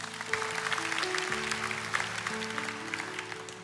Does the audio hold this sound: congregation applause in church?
yes